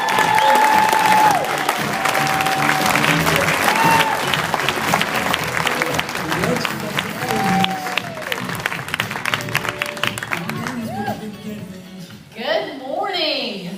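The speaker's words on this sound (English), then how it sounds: "Let's hear it for Miss Casey Council" Audience applause for a speaker taking the stage at a TR90 products event, broadband clapping sustained throughout under a voice and ending in cheers.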